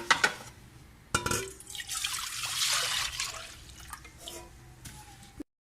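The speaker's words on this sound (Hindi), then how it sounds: "अब ये जो बाकी का दूध है इस पैन के अंदर डालेंगे।" Milk poured from a container into a pan for sweet vermicelli, a close liquid splash and gurgle that swells into a steady stream and then tapers off with a few drips and light clinks before stopping.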